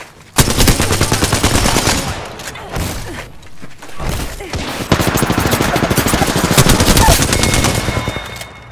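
Automatic gunfire in the video game Apex Legends, loud rapid bursts of shots in dense rattling strings, with brief pauses between bursts and a final long sustained burst.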